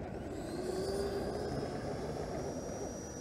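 A radio-controlled model jet on a low landing approach with power being reduced, its engine whining steadily at a distance over constant rushing air noise.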